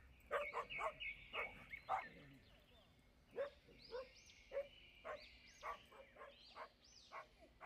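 A dog barks repeatedly in quick, yappy clusters, fairly faint and slightly distant, with short pauses between the bursts.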